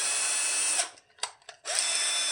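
A power drill drives out screws from a Telecaster-style guitar, spinning with a high, steady whir, stopping for a moment, giving a few short bursts, then running again.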